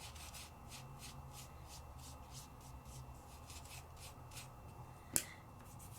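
Dry PearlEx powder being rubbed onto a sticky double-sided sticker in paper crafting, heard as steady, soft, rhythmic brushing strokes close up, with one brief sharper tap near the end and no talk.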